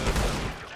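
Video game gunfire in a shooter, a short dense burst of rapid, loud shots that blur together for under a second with no talk.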